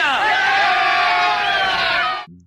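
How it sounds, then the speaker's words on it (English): A crowd erupts in an enthusiastic cheer, a dense loud roar of many voices with rising whoops that holds steady, then cuts off abruptly near the end. "Enthusiastic cheer."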